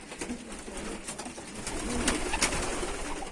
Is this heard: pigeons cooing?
yes